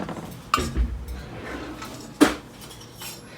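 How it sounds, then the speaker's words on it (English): Metal spoons clink a couple of times in a kitchen while baking a caramel apple mug cake, sharp brief chinks separated by quiet handling sounds. "Allison, if you can get me a couple of spoons"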